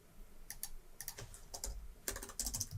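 Quick bursts of clicky keystrokes on a computer keyboard while typing code, irregular clusters of taps, close and fairly quiet, no voices.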